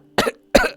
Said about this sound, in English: The entity begins to cough, as if choking.